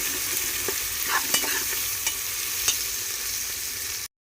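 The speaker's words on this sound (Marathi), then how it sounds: "गळेल तो कांदा कांदा एकदम चॉकलेटी करायचा आहे आपल्याला" Onions frying in a pan until deep brown, stirred now and then, give a loud, continuous sizzle with occasional soft clinks and scrapes of the utensil before it cuts off abruptly.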